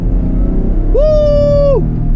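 A 2010 Chevrolet Camaro with the 3.6 V6 and 110,000 miles blips its engine for a rev-matched downshift into second. One short, clear rev swells up, holds briefly and drops back over a steady low road rumble.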